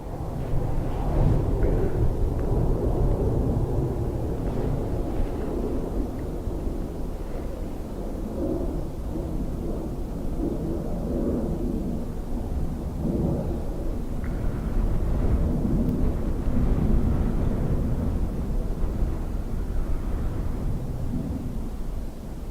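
An aircraft departs runway 28 right at Dublin Airport during a windstorm, a steady low engine roar heard from a distance and heavily buried in constant gusting wind rumble throughout.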